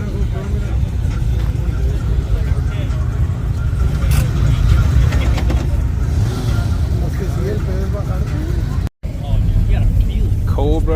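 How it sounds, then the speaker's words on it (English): A Shelby Cobra at a Cars and Coffee meet at Six Flags, its engine note rumbling loud and close throughout, with crowd chatter and open outdoor ambience around it. "Cobra, Shelby Cobra."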